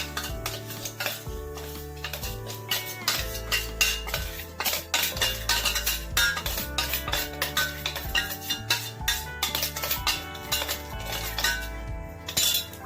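Ground coconut is tipped into a pan of tapioca biryani and stirred, with rapid metal clinks and scrapes of a spoon against the pan over a light sizzle.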